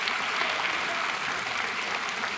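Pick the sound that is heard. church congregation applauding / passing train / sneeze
church congregation applauding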